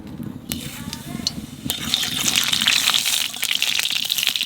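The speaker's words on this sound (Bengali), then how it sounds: "তেলের উপর দিয়ে দেবো কালো জিরে" Nigella seeds dropped into hot oil in a pan while cooking tomato leaves, giving a steady close sizzle and crackle with bursts of sharp popping over continuous hiss.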